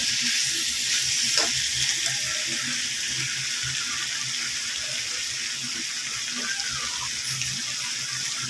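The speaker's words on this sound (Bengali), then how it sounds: "খুব সামান্য পরিমাণ পানি দিয়ে দিলাম।" A small splash of water poured into a sizzling pan of hyacinth beans and spices with rohu fish, giving a steady broadband hiss and crackle of frying throughout, close and continuous with faint clinks.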